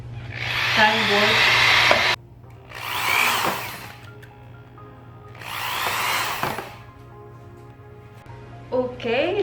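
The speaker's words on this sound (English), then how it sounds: "now that we are done drilling this tray" A power drill whines through a plastic tray in three bursts of a few seconds each, separated by short pauses, with a steady low hum running underneath.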